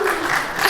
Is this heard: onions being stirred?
no